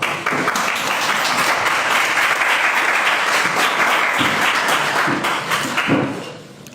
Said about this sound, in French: je pense que vous méritez encore une ovation